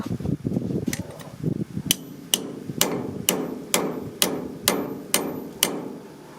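A hammer peens a farm tool blade on a blacksmith anvil, about ten bright, ringing metallic blows at a steady pace, following a few softer, duller knocks.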